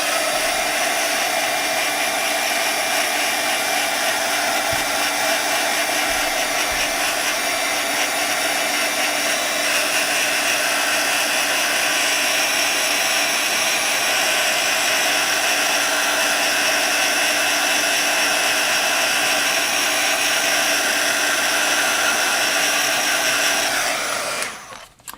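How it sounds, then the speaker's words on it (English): A hair dryer or heat tool drying a snow globe craft scene, a loud, steady whooshing roar running unbroken for about 25 seconds before cutting off at the end. "Let's just give this a dry."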